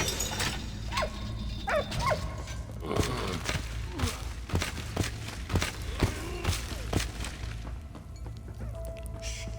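Dog barking in the WWI video game Valiant Hearts: The Great War, scattered sharp barks and yips over a dense, booming game soundscape with thuds and footsteps.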